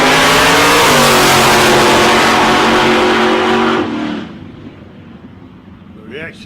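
A drag racing car roars off the line at a South Coast Raceway eliminations event, its loud engine climbing in pitch for about four seconds before cutting off sharply and leaving faint background noise.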